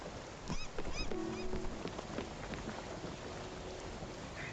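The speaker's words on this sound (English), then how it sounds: "Yo, it's raining." Rain and thunder in the video game Spiritfarer: steady soft rainfall patters throughout, with a low rumble of thunder, quiet overall, alongside a few faint chimes and tones.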